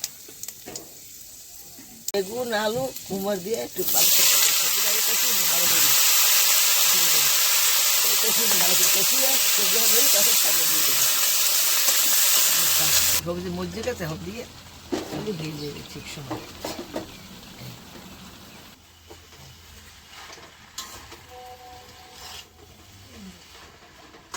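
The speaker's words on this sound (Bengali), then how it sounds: "এই এখন দিলাম পাঁচ ফোড়ন তারপর দিলাম" Panch phoron spices sizzle in hot oil during home cooking, a loud broadband hiss bursting in and holding steady for several seconds before settling, with voices talking around it.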